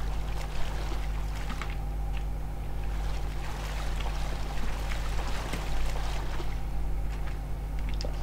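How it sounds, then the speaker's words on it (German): Steady water flow pouring into a building in a Minecraft-like block game, a continuous trickling rush at moderate level with no talking. "Vor allem fließt jetzt hier Wasser rein die ganze Zeit"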